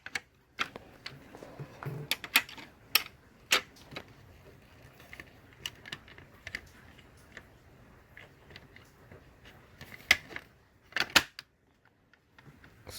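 Plastic pieces of a Mercedes-Benz front hood grille being pressed onto their slots and pins give sharp, close clicks and snaps at irregular intervals, some in quick pairs, over a low bed of handling rustle with no talking.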